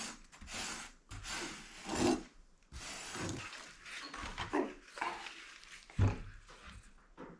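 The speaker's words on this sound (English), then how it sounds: "I'm just striking it off now, getting all the excess sand off the top of the box" Excess foundry sand being struck off the top of a casting mould box for BSA Bantam triple clamps, producing several rough, scraping rasps in uneven bursts at close range.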